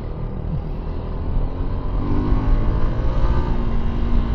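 Suzuki V-Strom 250 SX motorcycle being ridden in town at high revs in fifth gear, its engine droning steadily and close with continuous wind and road noise, no talking.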